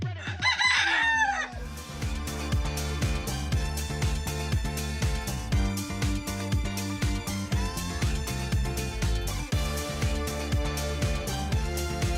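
Polish cap chickens, an ornamental crested breed, give a loud nearby rooster crow at the start, then repeated clucking and calls over a steady musical backing.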